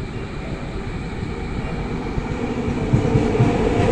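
A Progo economy train hauled by a CC 203 diesel locomotive entering Cirebon Prujakan station, a loud, continuous low rumble of rolling wheels and engine with faint clanks toward the end, no talk.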